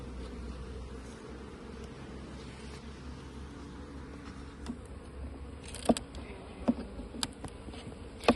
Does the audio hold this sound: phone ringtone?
no